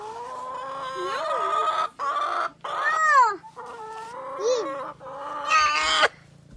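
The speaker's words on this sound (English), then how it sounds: "Is that a funny chicken?" Chickens cluck inside a nesting box in a backyard chicken house, a series of loud, close, rising and falling squawks and calls in bursts, with brief pauses between them.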